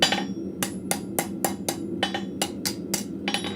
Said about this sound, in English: Now we're just doing light taps just to close up both sides